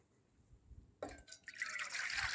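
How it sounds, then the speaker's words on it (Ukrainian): Water is poured into a riveted cooking pot repaired after burning through. A quiet pause gives way to a sudden close splash and a rising, filling gurgle that continues to the end. "Наливаємо води."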